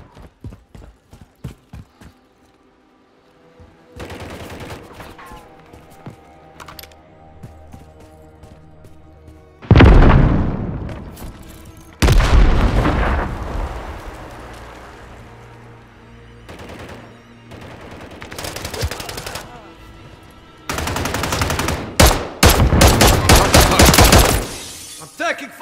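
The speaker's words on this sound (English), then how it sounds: "I'm taking fire!" Call of Duty Team Deathmatch on the Hostel map erupts in several loud bursts of gunfire and explosions, separated by quieter stretches of game ambience.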